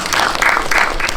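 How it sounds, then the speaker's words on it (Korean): Brief burst of audience applause at a Korean film talk event for Dream Palace, a steady, close wash of many hands clapping. "박수 부탁드리겠습니다"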